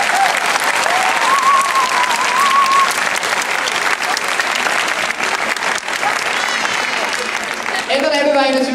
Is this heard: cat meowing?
no